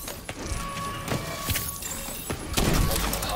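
Volley of rockets launched in a video game, a string of sharp thumping bursts with a heavier boom near the end, fairly loud.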